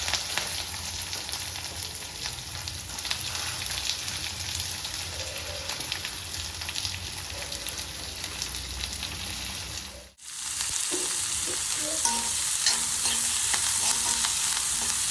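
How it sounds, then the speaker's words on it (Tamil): Curry leaves and chopped onions fry in hot oil in a pan, giving a constant dense sizzle that briefly drops out and then returns louder and brighter. "இப்போ கருவேப்பிலை போட்டுக்கலாம், வெங்காயம் போட்டுக்கலாம்"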